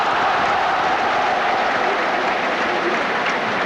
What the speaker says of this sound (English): Gets a round of applause, but it was very well struck by Steve Sumner.